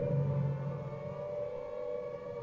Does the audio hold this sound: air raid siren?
yes